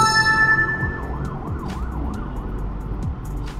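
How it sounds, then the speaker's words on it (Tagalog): An ambulance siren wails in a rising and falling pattern as it passes on EDSA in Metro Manila, over steady traffic rumble. "dahil sa dumaan na ambulansya"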